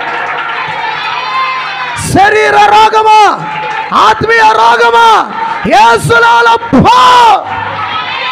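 Church congregation shouting loudly in bursts, with strong cries and crowd roars rising over a preacher's loud, tonal voice, the outbursts coming in waves between his phrases.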